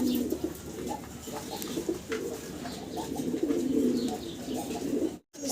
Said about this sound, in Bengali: সিঙ্গেল এক পিস কবুতর দেখাচ্ছি